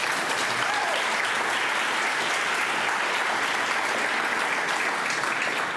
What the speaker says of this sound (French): Une grande main d'applaudissements.